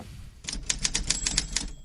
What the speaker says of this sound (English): I love the typewriter.